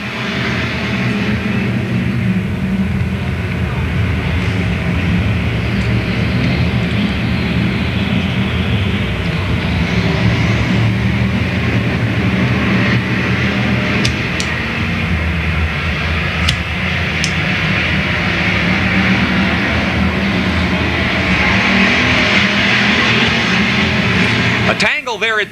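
Race cars on a figure 8 speedway at Louisville in 1996 roar in a dense, continuous engine drone that stays loud throughout, with a track announcer talking over the pack.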